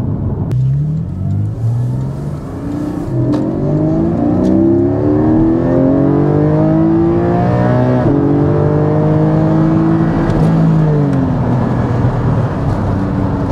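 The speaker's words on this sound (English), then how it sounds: "It is a proper Porsche, the 4 litre flat six." A Porsche 718 Cayman GTS 4.0 with its 4-litre flat-six engine revs loud and close, its pitch climbing and falling in repeated sweeps with no voices over it.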